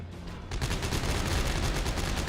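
Rapid bursts of gunfire aimed at necromorphs in the video game Dead Space 3, loud and continuous, a dense stream of shots starting after a brief quieter moment.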